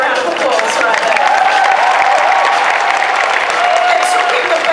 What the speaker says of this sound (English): I think that deserves its own round of applause right there.